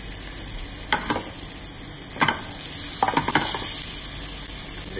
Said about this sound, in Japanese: 皮の方はもっとカリッと焼いていきますが、 まずは粉を